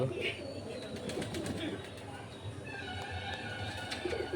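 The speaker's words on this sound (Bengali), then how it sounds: "দেখো গাইস জঙ্গলি পায়রা দেখো তোমরা" Soft cooing of wild pigeons outdoors, low and repeated, with faint chirps of other birds and light background noise.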